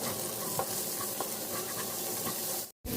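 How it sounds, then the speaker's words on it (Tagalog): Diced carrots sauté in a hot pan for fried rice, a continuous loud sizzle with occasional stirring scrapes and a brief gap near the end. "Igisahin natin ngayon yung carrots para."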